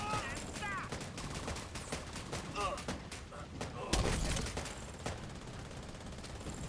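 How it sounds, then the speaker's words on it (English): Rifle shots crack in a video game firefight, clicked out one at a time rather than at full rate, over a busy backdrop of other gunfire and speech. "Rifle."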